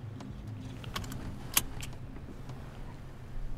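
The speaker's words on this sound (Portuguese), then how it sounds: "Tem que destrancar o carro, tropa." Car keys jangling in a metallic rattle with a sharp click around the middle, as a car is unlocked, close by over a low idling hum with no talking.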